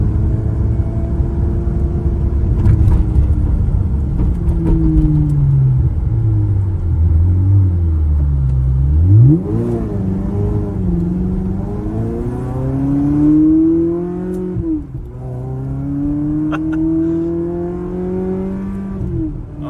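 A 2001 Ferrari 360 Spider engine revs up and down repeatedly, its pitch rising and falling in sweeping surges, loud and close with no talking.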